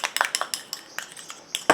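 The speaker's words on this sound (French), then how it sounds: "Et je mélange à nouveau." A utensil stirring a rose anti-aging serum mixture in a small container makes quick, light clinks and taps in an uneven rhythm, close and fairly clear.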